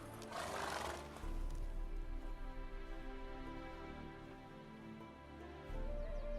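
Roach, Geralt's horse in The Witcher 3, lets out a loud whinny and then moves along with soft hoof thuds under a steady low music bed.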